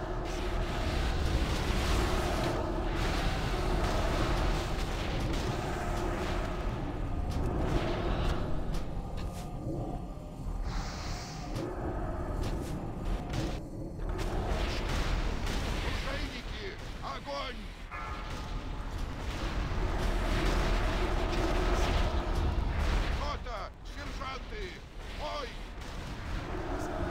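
Heavy booming cannon fire rolls continuously through a loud, dense game battle, with crashes and explosions layered over music and shouting voices.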